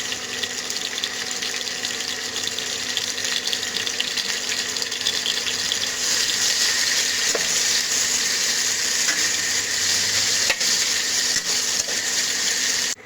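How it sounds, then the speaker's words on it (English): Chopped onions fry in oil in a kadai, giving a continuous close hiss that grows slightly stronger midway, with occasional soft stirring knocks and no speech. "Now we will put the chopped onions in the kadai and wait till it gets entirely fried and turns into brownish color."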